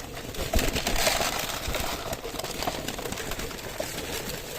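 Soft cooing of pigeons mixed with scratchy rustling and pecking at maize, steady and fairly close, with no one talking.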